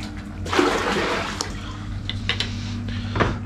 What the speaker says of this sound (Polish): Nalewamy wody.